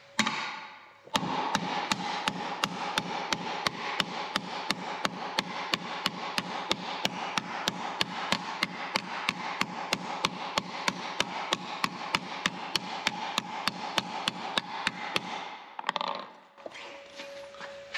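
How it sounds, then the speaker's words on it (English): Rapid, evenly spaced hammer strikes on sheet metal over a nylon surface ring out continuously for about fifteen seconds, a fast metallic tapping rhythm, then stop abruptly. "I'm gonna allow the hammer to bounce off the nylon, and I'm gonna smooth this out"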